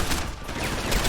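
Heavy gunfire crackles in Deus Ex: Human Revolution, a brief dense burst of overlapping shots filling the short moment.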